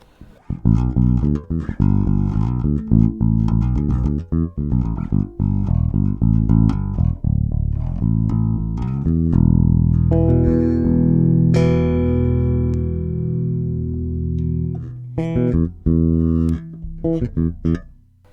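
Electric guitar (Sire M2, neck pickup in single-coil mode, bridge pickup in parallel) played with a clean, bright tone: quick picked notes and chords for several seconds, then sustained ringing chords, with no talking.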